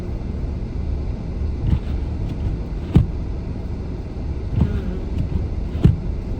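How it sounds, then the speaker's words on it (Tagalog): Steady low rumble of cars moving past on a snowy road, with a few soft passing swooshes and thumps rising from a constant windy background. "Lalakad na naman ang mga sasakyan."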